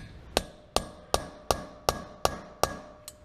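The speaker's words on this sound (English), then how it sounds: "Usually we have to use some hammer for tap it." A hammer taps a part on a Mazda MX engine head during restoration: eight sharp, evenly spaced metallic knocks, close and alone.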